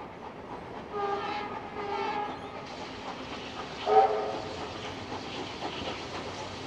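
Steam locomotive 3642 passes on a shuttle run between Sydney and Rhodes, a rolling rail rumble and steam hiss heard at a moderate distance, with a brief horn call in the middle.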